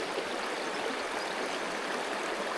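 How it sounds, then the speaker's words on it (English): Steady, close rush of a river flowing in New Zealand, a continuous broadband hiss of moving water with no voices. "Beautiful river."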